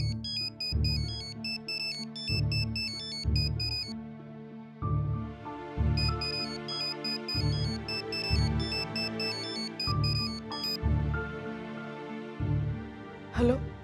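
A melodic phone ringtone plays repeatedly in short bursts with brief pauses, continuing on and on without being answered.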